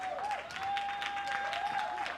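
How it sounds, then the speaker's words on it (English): Soft, distant applause from an audience greeting a presenter at a women's sports anniversary event, steady clapping under a sustained tonal hum. "Please, a round of applause for her."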